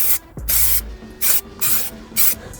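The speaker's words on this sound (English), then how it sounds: "So I've got this glue, this insulation glue." Insulation glue sprayed from an aerosol can onto a Ford Fiesta panel in four short hissing bursts, each about half a second long, close and loud with brief pauses between them.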